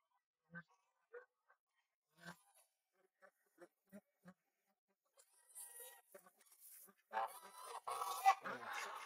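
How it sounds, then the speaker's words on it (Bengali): Geese in a Bangladeshi village yard give faint, scattered short honks at a distance, followed by louder mixed noise and rustling toward the end. "কি সুন্দর রাজহাঁস!"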